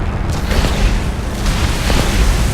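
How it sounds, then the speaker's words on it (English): A powerful 37mm cannon downs an American plane in War Thunder: rumbling, booming blasts over steady engine drone, with scattered heavy thumps and pops through the stretch, loud and continuous. "A very powerful 37mm cannon just wiped me out the sky"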